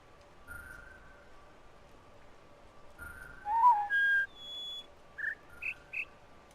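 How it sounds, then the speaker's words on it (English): Synthetic bird calls in a PC game sound as clear tonal whistles over a quiet hum: two short notes, a louder warbling pair, then a rising series of brief chirps. "If the small sounding bird is bait with the 5 lined up notes, then I don't know what the other bird noise is for."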